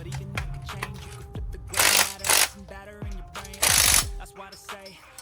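Wrench tightening a bolt on an LS3 engine, close up, with rapid ratcheting clicks and metallic ticks broken by two louder bursts of harsh noise.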